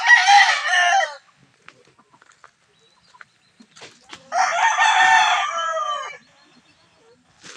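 A rooster crowing on a small farm in the Philippines, two loud, close crows separated by a few seconds of near silence with faint scattered clicks.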